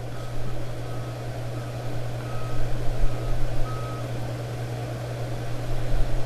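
A van outside gives steady reversing beeps, evenly spaced and moderately distant, over a constant low hum and background noise.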